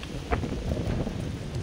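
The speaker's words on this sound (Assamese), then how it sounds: "আজি কি ধুনীয়া বতাহ মাৰি আছে" Wind blows across the Brahmaputra river at Bamuni Hills in Tezpur, a soft steady rush of air with microphone buffeting and a faint brief knock early on.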